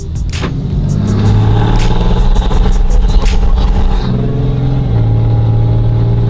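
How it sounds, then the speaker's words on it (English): Diesel truck with a 5-inch turbo-back exhaust, a loud close engine droning and building in rev, then settling to a steady lower rumble. "5-inch turbo back exhaust"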